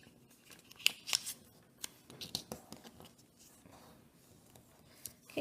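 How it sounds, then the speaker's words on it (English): A sheet of paper is creased and folded into an origami kite shape, giving soft, scattered crinkles and sharp paper snaps, quiet and close with no voices. "I'm going to take this corner on my right and I'm going to fold it up to meet the top point of this triangle"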